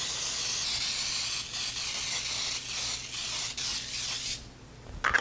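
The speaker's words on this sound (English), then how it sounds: "we're going to spray it with some nonstick cooking spray" Nonstick cooking spray hisses steadily into a 9x13 baking dish, one continuous close spray lasting several seconds and tapering off near the end.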